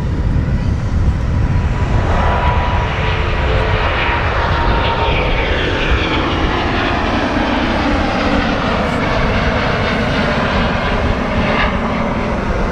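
An Airbus A350 jet rolls for takeoff at Manchester Airport. A loud, continuous engine roar fills the air with a slowly shifting pitch and wind noise.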